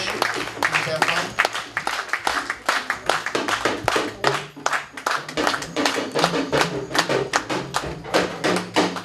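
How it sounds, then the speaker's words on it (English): Audience clapping to welcome performers arriving at a Native American chiefs' welcome ceremony, loud, close, steady rhythmic applause that carries throughout. "please a round of applause as they come in to perform"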